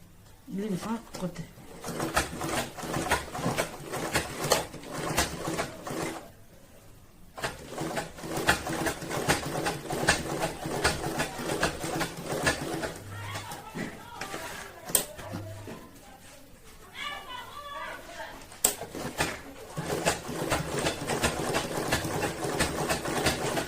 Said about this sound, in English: So I will sew it according to the shape of this lining